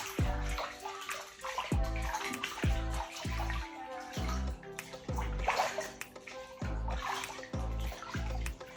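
Water runs and splashes while shampoo is rinsed out of hair during washing, a close, steady wet pouring with uneven splashes throughout.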